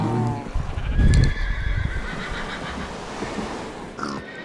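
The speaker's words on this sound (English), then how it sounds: "And here are the horses, speaking of horses." Horses neigh in a whinnying call near the start amid steady outdoor rumble and noise at a horse show venue, with grunting and faint hoof sounds under the wash of background sound.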